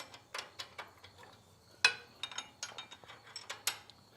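Ratchet tightening a bolt on a Kubota tractor's backhoe linkage gives a run of close, faint ratcheting clicks at an uneven rhythm, with one sharper clank partway through.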